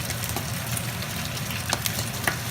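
Atlantic salmon frying in its own oil in a pan, a steady close sizzle with occasional small pops and crackles, no talk.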